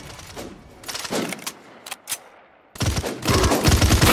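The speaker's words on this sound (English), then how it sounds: "launch your frag grenade to hit all targets in the area" A frag grenade ability fires in the video game Paladins, bursts of rapid crackling blasts and explosive pops, loud and close, with a brief lull in the middle.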